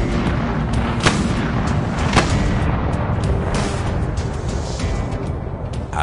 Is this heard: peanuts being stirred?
no